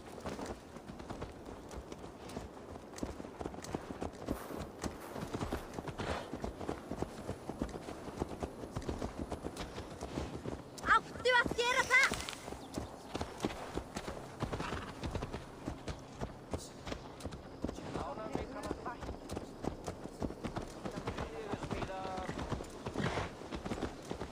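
Horse hooves clip-clopping in the Assassin's Creed Valhalla video game, a steady trotting rhythm of fairly quiet hoofbeats running throughout, with voices speaking over it and a brief whinny midway.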